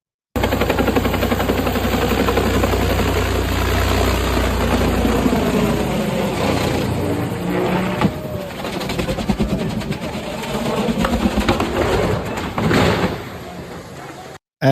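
Helicopter dropping in a short viral video: a loud, steady, close rotor and engine drone with rapid chopping pulses fills the clip, with faint voices underneath.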